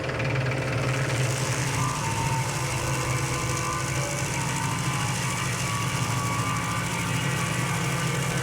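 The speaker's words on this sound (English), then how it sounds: "So I'm gonna run back, grab the stump grinder again, and we're just gonna take that spot down a little bit more." A Baumalight 3P34 stump grinder driven by a tractor, grinding down a stump: a loud, constant engine drone with a rough, churning vibration that runs steadily throughout.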